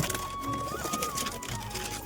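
Soft cooing of pigeons close by over a low, steady background hum, with no talking.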